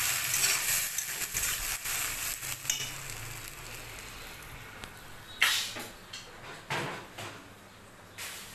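Food cooking in a pan in a home kitchen, a soft continuous sizzle with several sharp clacks and knocks of utensils or lids, moderately close, no talk.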